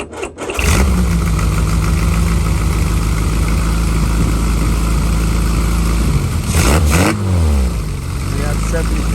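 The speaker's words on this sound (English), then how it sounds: "And it idles and sounds very much like a Sprite." A Lotus/Westfield 7 replica's engine, run with a little choke and a side exhaust, catches and settles into a steady idle, close and loud, with a quick blip of revs near the end while someone talks.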